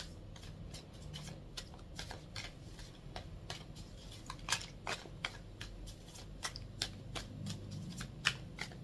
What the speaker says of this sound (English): Let's get a couple more tarot cards.